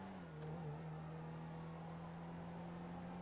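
Car engine in GTA Online straining as it climbs a hill, a steady, droning hum holding one pitch, quiet and continuous.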